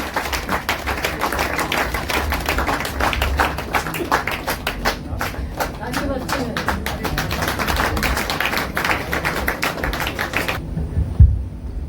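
An audience at an international literary poetry stage in Delhi's Pacific Mall gives loud, dense applause to welcome poet and host Dr. Kirti Kale. The clapping is close, continuous and steady for about ten seconds, then stops abruptly.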